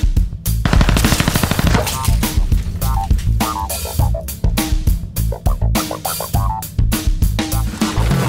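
Glock 19 and CZ P-07 pistols fire a rapid string of sharp, loud shots in quick succession, with close, punchy reports and no talking.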